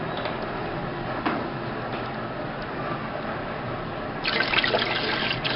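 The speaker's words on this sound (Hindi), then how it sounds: "थोड़ा सा और पानी ऐड करूँगा मैं।" Water trickles and splashes into a covered cooking pot of Bukhari rice with a steady watery rush, growing louder and more bubbly toward the end; a light tick sounds early on.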